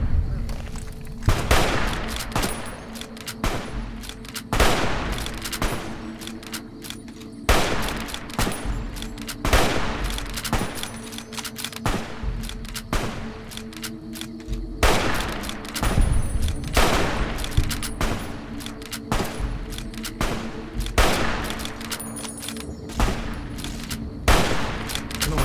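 Gunfire from a long-range weapon in a PC shooter game, with sharp shots and bursts recurring every second or two over a steady background hum throughout, loud and close.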